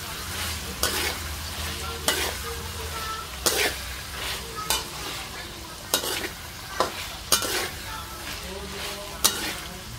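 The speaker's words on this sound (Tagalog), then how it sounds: "haluin natin." Fried eggplant and ground beef are stirred in a sizzling pan, a spatula scraping and clanking in irregular strokes over a steady frying hiss.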